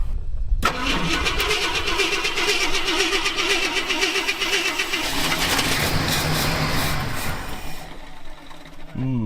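An old Ford F100 truck engine, abandoned for 20 years, cranks briefly, catches and roars to life, then settles into a rough, uneven idle that falters near the end.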